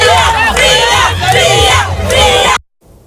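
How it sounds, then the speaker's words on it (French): A large crowd around a boxing ring cheers and shouts loudly in rising and falling waves for about two and a half seconds, then cuts off abruptly. "Le public massivement mobilisé autour du ring a animé cette première journée par des acclamations, des ovations"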